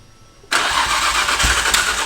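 A Nissan R34 GTR engine cranks and fires loudly after a quiet moment, then settles into a rough, close, high idle with slight fluctuations.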